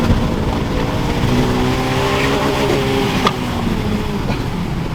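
A Honda Civic Type R engine revs hard and climbs into VTEC, a loud continuous engine roar with rising harmonic tones throughout, close by, with a brief sharp transient near the middle.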